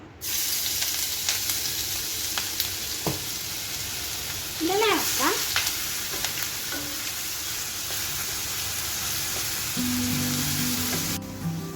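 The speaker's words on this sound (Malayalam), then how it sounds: "ഓയിൽ ചൂടായിട്ടുണ്ട്. നമുക്കതിലേക്ക് ഇഞ്ചി, പച്ചമുളക്, വെളുത്തുള്ളി വളരെ ചെറിയ പീസായിട്ട് അരിഞ്ഞത് ഇട്ട് കൊടുക്കാം." Finely chopped ginger, green chilli and garlic sizzle steadily in hot oil, a broad close frying hiss that runs the whole time, with brief clinks and scrapes of stirring and a faint voice near the middle.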